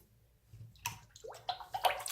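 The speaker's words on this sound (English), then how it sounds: "I'm going to pour, not too much, because this is the family fabric softener" Fabric softener pours from a family-size bottle into water for dyeing a wig, a quiet glugging trickle that starts after a brief silence and builds into splashy gurgles.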